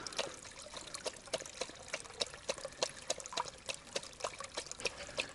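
Clear water trickling and dripping in a clean forest spring, a continuous gentle babble with frequent small splashes and drips, close and quiet, no talking.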